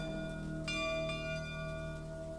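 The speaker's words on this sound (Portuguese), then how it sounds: "Durante a noite o fazendeiro Luís ouviu o sino dar 7 badaladas" A church bell rings out with a bright metallic strike and a long, humming ring that fades slowly against a steady background.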